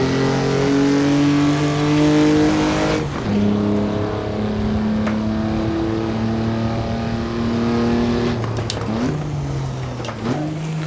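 A historic race car engine in the Assetto Corsa racing game at the Pau Grand Prix street circuit, loud and steady as it holds second gear, with sharp pops and revs toward the end.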